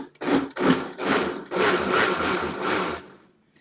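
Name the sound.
blender blending cookie mixture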